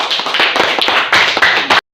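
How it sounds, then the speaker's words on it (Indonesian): A group of primary-school children claps quickly and loudly in a classroom for about two seconds, then the sound stops abruptly. "Oke, tepuk tangan."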